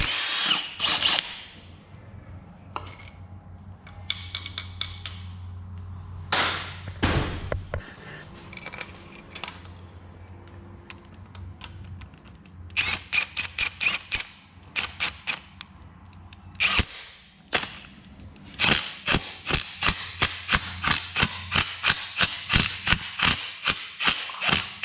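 An impact gun runs down head stud nuts on a turbo Barra engine, giving repeated whirring bursts and rapid hammering rattles that start and stop, close and loud in a workshop, with no voices.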